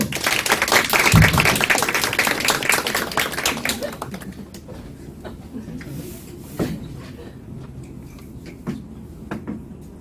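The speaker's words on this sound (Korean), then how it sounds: "큰 박수를 쳐주세요" A church congregation at a youth-led worship service claps loudly and densely at first, then the clapping thins out to scattered claps with some voices talking underneath.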